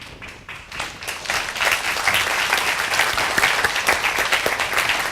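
Audience applause at a student conference swells from a light patter into full, dense clapping that stays loud and steady, with crowd sounds mixed in.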